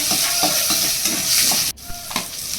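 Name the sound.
ginger and garlic frying in a pan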